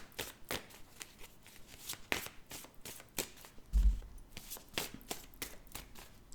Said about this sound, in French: Allez, 13 cartes, on coupe d'abord, ni oui ni non.